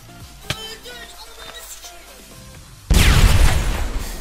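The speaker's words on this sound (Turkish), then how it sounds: "Patladı orada." A sudden loud, broadband Minecraft explosion erupts partway through and rumbles on, preceded by quieter scattered game sounds and clicks.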